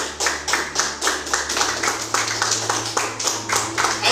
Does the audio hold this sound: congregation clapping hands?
yes